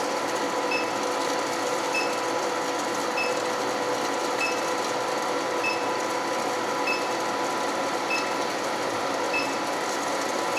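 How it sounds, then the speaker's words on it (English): An induction heater heats a piece of steel with a steady, loud electrical hum. A faint, evenly spaced ticking repeats roughly every second throughout, with no talk. "But that's how fast it heats."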